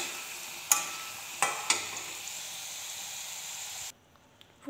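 A vegetable frying until golden in a pan: steady close sizzling with three sharp scraping stirs, then the sizzle cuts off near the end.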